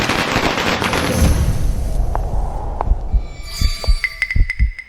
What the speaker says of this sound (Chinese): 我放個鞭炮，給大家沖沖喜